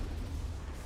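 A rocket blast in the Mass Effect video game, aimed at Geth enemies: a short, dense low rumble of explosion that fills the whole brief moment, steady and heavy with no voices.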